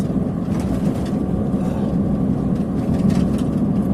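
A loud 1991 Mazda Miata SE with a 1.6-liter engine idles steadily up close outdoors, a constant low rumble filling the whole stretch with no talking.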